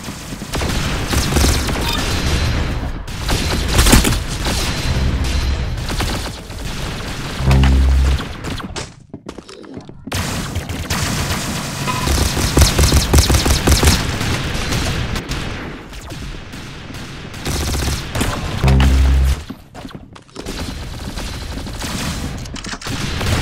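Rapid bursts of automatic gunfire and explosive booms from a video game shooting match, loud and nearly continuous with brief pauses, some heavy low thumps standing out.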